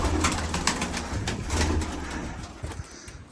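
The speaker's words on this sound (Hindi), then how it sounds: "सारे कबूतर।" Pigeons coo steadily in a low, throaty murmur close by, with a bustle of wings and birds over a constant background hum.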